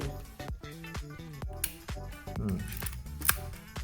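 A Canon QL17 III rangefinder fires its shutter at 1/500 s, giving brief, faint clicks that sit under louder background music.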